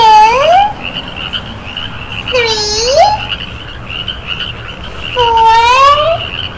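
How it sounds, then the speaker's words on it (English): Frogs croak in a pond in a children's nature show: three loud, rising, warbling calls spaced a couple of seconds apart, close and clear over a soft background hum. "There are actually 5 frogs in the pond right now."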